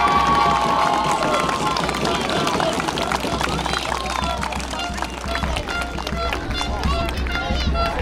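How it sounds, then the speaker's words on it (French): A large crowd cheers and applauds at an equestrian awards ceremony for the French Cup 2022. The sound is a loud, steady wash of clapping and shouting that lasts the whole time, with voices mixed in. "un tonnerre d'applaudissements pour la 3e marche"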